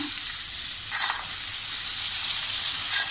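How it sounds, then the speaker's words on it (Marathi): Peas and potatoes sautéing in oil for a Malvani-style matar batata curry give a steady close frying hiss, with two brief stirring scrapes rising out of the sizzle. "थोडं परतून घेऊया त्याला. आता आपण हे मटार टाकूया."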